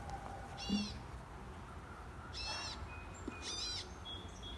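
Birds near a backyard beehive give three separate bursts of high, shrill repeated calls spaced a second or two apart over a faint steady outdoor hiss, with no talking.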